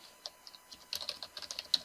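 Quiet typing on a computer keyboard, entering a class code to join a Google Classroom, with irregular soft clicks and a few sharper key taps close by, no talking.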